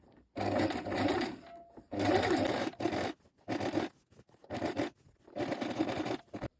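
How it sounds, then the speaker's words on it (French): A sewing machine stitches along a dress lining, topstitching the seam allowance toward the lining. It runs in five close bursts of rapid whirring with short quiet pauses between them, and no one speaks. "vous allez piquer nervure au niveau de la doublure pour maintenir donc la marge de couture vers la doublure"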